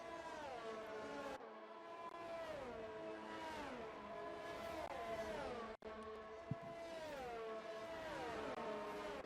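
Race cars in F1 2019 at Abu Dhabi, engines revving high and shifting through gears in repeated rising-and-dropping whines, loud and continuous with overlapping cars.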